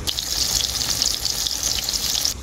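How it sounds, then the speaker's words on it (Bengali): Fish pieces frying lightly in hot oil for a curd katla recipe, a loud, steady, close hiss of sizzling oil that runs without pause and then cuts off. "মাছটা হালকা করেই ভেজে নেব, এক পিঠ হালকা হলে আরেক পিঠ পাল্টে নেব"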